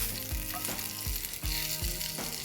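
Steady oil sizzle from soaked dried red chillies frying in a pan for garlic chutney, with a few sharp stirring scrapes or knocks at irregular intervals, close and continuous.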